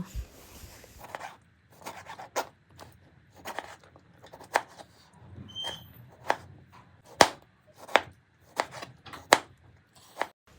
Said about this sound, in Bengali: এবার টমেটোটাকে আমি ছোট ছোট করে কেটে নেব।